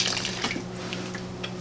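Liquid concrete additive is poured into a concrete mix for a floor repair, making a steady wet splashing and trickling that lasts the whole moment, close and moderately loud.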